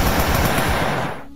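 Rapid automatic gunfire in the Sub Rosa video game, a dense burst of shots lasting just over a second before tailing off, loud and close.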